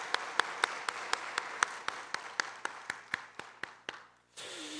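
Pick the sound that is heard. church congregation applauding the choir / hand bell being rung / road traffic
church congregation applauding the choir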